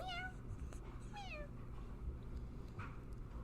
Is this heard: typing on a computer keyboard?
no